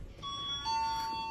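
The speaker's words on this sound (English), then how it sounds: "That's the doorbell, dude." A hotel penthouse suite doorbell rings two faint electronic tones, one after the other. They sound over a low room hum and no voices are heard.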